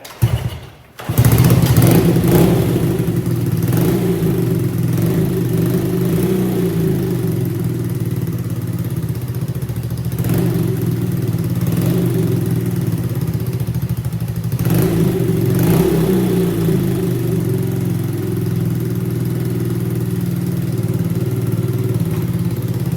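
After a brief sputter, a long-unused 1971 Honda CB100 motorcycle engine starts and runs steadily, close and loud, its rough idle swelling into a few light revs.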